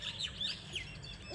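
A small bird singing nearby, with a few quick high chirps and short twittering phrases over quiet background noise, no talking.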